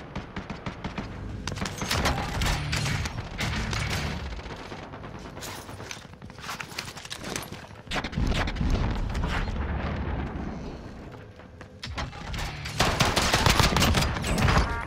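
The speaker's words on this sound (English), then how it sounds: "I killed a man with a pistol, you know, that's mad." Rapid gunfire in Call of Duty Warzone, with dense bursts of shots and sharp cracks repeating loudly throughout, some volleys coming in quick clusters.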